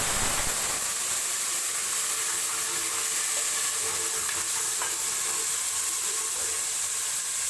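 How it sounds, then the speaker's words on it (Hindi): Water poured into a pan of browned onions for a salted rice dish, giving a loud, continuous hissing sizzle with steam that stays steady throughout, with no talking. "अब इसके अंदर पानी डाल देंगे।"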